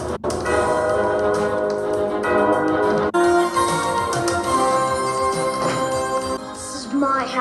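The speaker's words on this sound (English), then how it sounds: "Is that Carol of the Bells?" Carol of the Bells from Home Alone (1990) plays as loud, full bell-like music that runs without a break. A brief sharp knock interrupts near the start and again mid-way.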